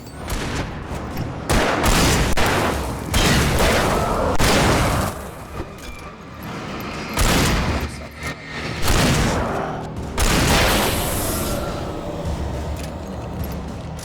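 Loud, repeated gunfire bursts in the horror action game Alan Wake Remastered, heavy booming shots arriving in clusters with short gaps, a dense, continuous wash of combat noise.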